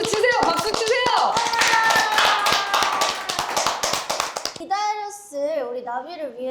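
A studio audience claps hands at a New Year talk-show event, a loud and fairly rhythmic run of claps lasting about four and a half seconds. It then stops, and bright, animated voices speak and exclaim.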